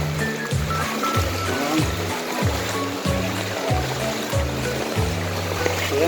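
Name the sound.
flood water flowing in a street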